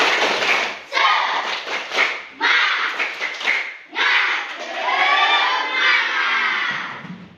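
Children in a classroom chant and clap together in short bursts, lively voices shouting with rhythmic claps and thumps, fairly close and loud.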